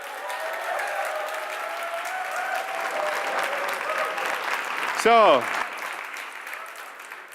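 An audience at a VR tech convention rally cheers and applauds at moderate volume. A host speaks over the crowd noise, and a brief sharp sound cuts in near the end.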